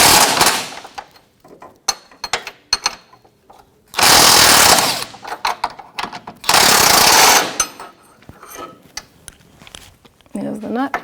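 A wrench and socket work a 21mm control arm bolt on a 2007-2017 Jeep Patriot 2.4L. Loud, clattering bursts of tool noise alternate with scattered clicks and knocks, and a person talks in between.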